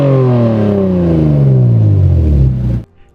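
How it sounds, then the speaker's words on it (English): A Lexus SC300 engine revs loudly and close up, its pitch falling steadily over nearly three seconds before it cuts off sharply into near silence. "So here's a clip of an SC300 making some noise."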